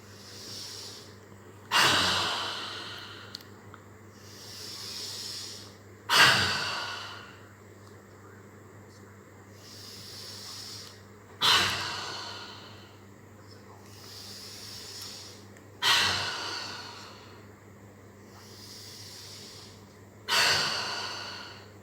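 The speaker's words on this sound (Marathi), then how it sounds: "फर्स्ट आहे ते टायगर ब्रीथिंग." Tiger breathing, a pranayama exercise done through the nose in a morning session: five forceful, hissing breath bursts come at a slow, regular pace roughly four to five seconds apart, each fading into quiet.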